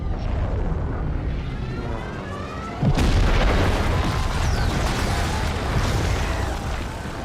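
An advertisement blimp crashing and exploding in The Ascent video game: a sudden heavy boom midway through a dense rumbling roar of fire and debris that stays loud to the end.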